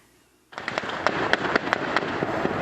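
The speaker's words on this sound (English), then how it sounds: "Some witnesses posted videos on social media where rapid gunfire could be heard." After a brief quiet moment, a burst of rapid sharp bangs erupts, cracking repeatedly in quick succession over a rumbling background.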